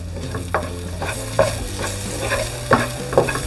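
Finely chopped garlic fries in hot oil in a wok for fried rice: a loud sizzle broken by repeated scraping stirs about every half second to second, with no voices.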